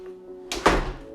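A closet door in an apartment opens with a single close thunk and a brief rattling swing that fades out, with no talk.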